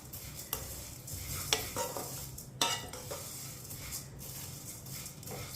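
Colored vermicelli (seviyan) is stirred in a pan over low heat for sweet seviyan, with a soft frying hiss and periodic spoon scrapes and taps on the pan, fairly quiet and close.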